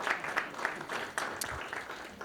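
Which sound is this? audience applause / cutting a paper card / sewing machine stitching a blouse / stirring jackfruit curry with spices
audience applause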